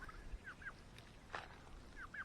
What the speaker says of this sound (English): They make some nice noises actually, turkeys.